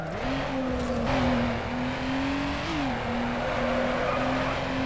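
Car drifting with sustained tire squeal in Need for Speed: Underground, a steady loud engine drone with a high squealing tone that bends in pitch as the slide continues, with no talk.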